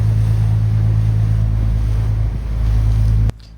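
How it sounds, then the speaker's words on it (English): Waves washing around a boat in Nassau harbor, a steady loud rush of water and wind with low engine rumble that cuts off abruptly near the end. "A lot of waves."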